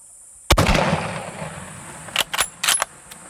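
A rifle shot rings out on an African hunt: one sharp, loud blast with a rolling tail, then several quicker, smaller cracks and clicks follow a couple of seconds later.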